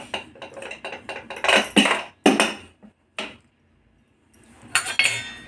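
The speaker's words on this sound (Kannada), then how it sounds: "ಇವಾಗ ನಾವು ಮುಚ್ಚಳನ ತೆಗಿತಾ ಇದ್ದೀವಿ." A pressure cooker lid is opened after two whistles, with a run of close metallic clanks, knocks and clinks of the lid and pot, then a pause and a final short rattle.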